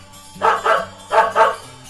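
A dog gives four loud, close barks in two quick pairs, each pair a sharp double woof with a short pause between, over a faint steady background hum.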